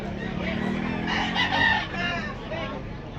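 A gamefowl rooster crows at a backyard bird sale in Tabunok, Talisay, Cebu, one drawn-out crow rising and falling close by, with faint clucking and voices from other birds and people around.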